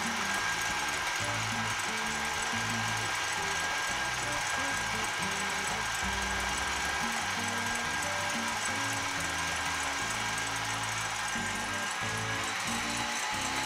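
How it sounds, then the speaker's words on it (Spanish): An electric hand mixer whirs steadily while beating egg whites to stiff peaks for a Milan sponge cake, a constant close motor hum with faint rhythmic variations from the beaters. "Las vamos a batir a que estén a punto de nieve"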